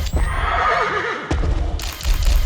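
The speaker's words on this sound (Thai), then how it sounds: "โอ้มันคือม้าแน่นอนอยู่แล้ว" A ghostly horse in the PS5 horror game DreadOut Keepers of The Dark gives a loud, wavering whinny that rises and falls. Rumbling game ambience sits underneath, and a sharp hit breaks in near the middle.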